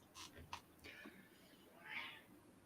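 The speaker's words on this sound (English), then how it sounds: "Oh, Erika, feed that cat." A house cat meows faintly a few times, short calls followed by a longer drawn-out meow near the end, quiet and close in an otherwise still room.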